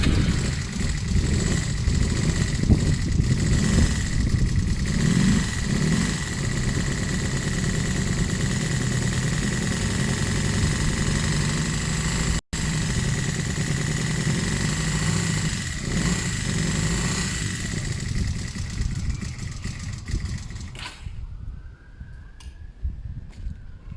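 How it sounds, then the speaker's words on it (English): A Honda CB250 Nighthawk motorcycle, a café racer project after a carburetor clean, idles steadily and close by, with its engine note held at a raised idle for about twenty seconds before it cuts off near the end. "Trying to get the idle higher."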